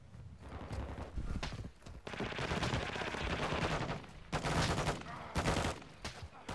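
Rapid automatic gunfire in Warzone 2.0 DMZ rattles in sustained bursts with short pauses between them, loud and close, amid game ambience.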